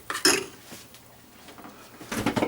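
Bread is stirred into porridge in a pot, with a couple of clinking, scraping bursts of utensil against pot at the start and end and quiet between.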